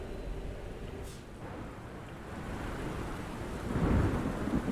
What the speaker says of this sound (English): And it starts raining.